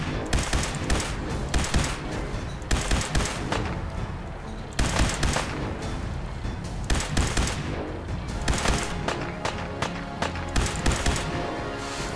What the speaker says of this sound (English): Still trying to figure out why this laser gun has recoil